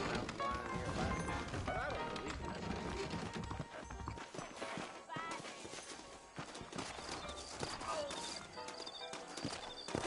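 Saddled horses in Red Dead Redemption trot along with clip-clopping hooves amid busy game sounds, clattering, and music, continuing steadily throughout.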